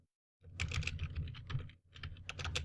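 Rapid typing on a computer keyboard while entering terminal commands, with close, busy bursts of key clicks and a brief pause partway through, with no talking.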